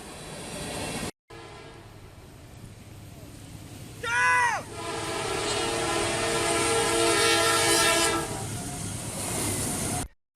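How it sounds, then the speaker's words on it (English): A train rumbles past at close range with a short, loud blast of its horn near the middle, then a sustained rolling roar of the cars going by. "he didn't notice the train coming from the other side"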